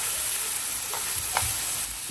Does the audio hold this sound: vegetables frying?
yes